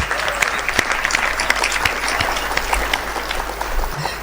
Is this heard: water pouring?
no